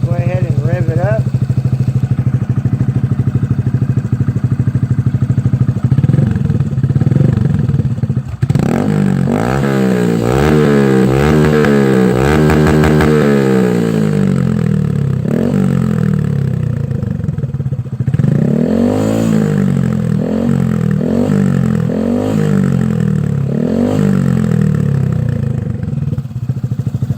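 A Honda Grom motorcycle with an M4 aftermarket exhaust idles, then is revved repeatedly, its engine rising and falling in several sharp bursts before settling back to a steady idle, loud and close.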